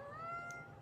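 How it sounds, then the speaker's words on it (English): A house cat gives a single short, faint meow, with nothing else around it. "Miss Kitty. Burrow. Burrow, burrow. Meow, meow, meow, meow."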